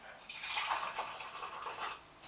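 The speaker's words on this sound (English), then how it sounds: "Add a bit of water." A short splash of water poured steadily onto softened malt for about two seconds during home beer brewing, close and fairly clear, with no talking.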